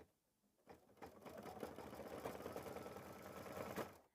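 An embroidery sewing machine stitches out a Kimberbell Berry Jar mini quilt piece, its quiet, steady, fast mechanical whir and needle chatter starting after a brief hush and running continuously.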